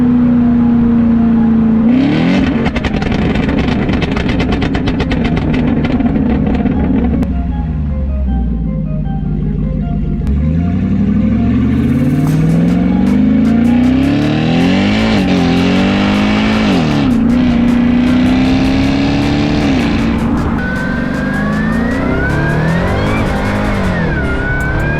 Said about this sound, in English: Here is a symphony of noises from a beautiful V8 supercharged